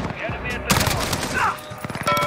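Gunfire in a Modern Warfare hardpoint match, short crackling bursts of shots with a quick rattling volley near the end, set among other game noise.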